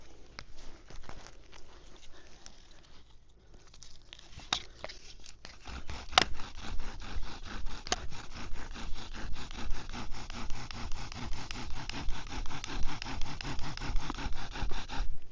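A bow drill spindle with a paracord bowstring of inner strands spins against a wooden fireboard, starting as quiet uneven scraping and building into a fast, loud, rhythmic back-and-forth rasp of wood on wood.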